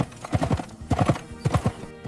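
Horse hooves walk on a dirt road as a man rides slowly through rural pasture, a steady clip-clop in repeating groups of beats, close and distinct with no talking.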